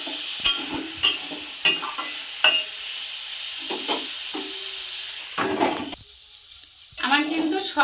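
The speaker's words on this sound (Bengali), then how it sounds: "সবজিগুলো ভেজে নিই" Mixed vegetables frying in a pan with turmeric and salt give a soft sizzle, punctuated by sharp spatula knocks and scrapes against the pan at irregular intervals, close up with a voice speaking briefly near the end.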